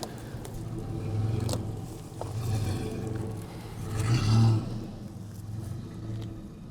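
A Nissan Xterra SUV drives along with a steady low engine and road rumble that swells and eases slightly throughout, with no voices.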